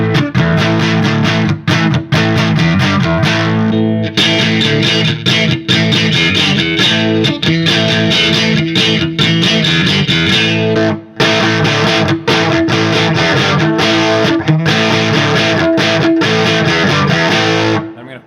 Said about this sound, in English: Just gonna power chord it through the different pickup settings with the boost on